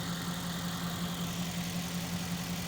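A Mercedes-Benz engine with a 193 mph top speed, idling quietly as a steady low hum with a faint tonal drone, alone and with no talk.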